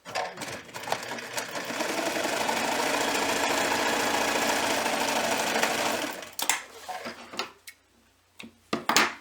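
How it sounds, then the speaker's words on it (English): A sewing machine runs a steady stitch through fabric for a pumpkin pot holder, humming close and even for about six seconds before stopping, followed by a few sharp clicks and handling knocks. "make sure you back stitch at the beginning and end just to ensure that your stitching doesn't come off"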